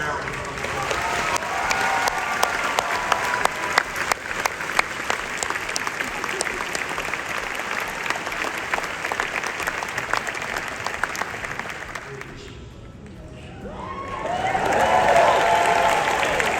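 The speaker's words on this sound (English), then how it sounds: "Give women in our society a round of applause" A graduation ceremony audience applauds in sustained, dense clapping, with faint cheering mixed in. It fades toward the end and gives way to a voice over a brief lull.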